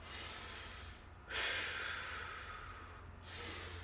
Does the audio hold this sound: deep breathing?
yes